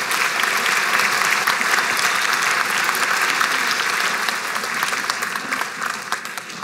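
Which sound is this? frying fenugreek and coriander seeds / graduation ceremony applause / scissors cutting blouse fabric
graduation ceremony applause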